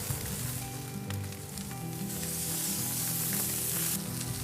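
Thick steaks sizzling over open wood fires on an Argentinian-style Gaucho grill with adjustable grate height, a steady close crackling hiss with no talk.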